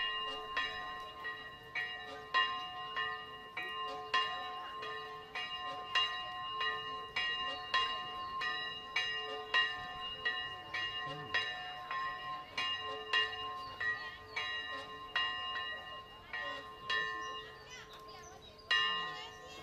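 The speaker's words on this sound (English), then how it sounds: "that bell ringing is for an actual church service" A church bell ringing for a Sunday Episcopal service in Paphos, Cyprus: repeated clear metallic strikes at a steady, slightly uneven pace, each ringing out and decaying, with faint children's voices in the background.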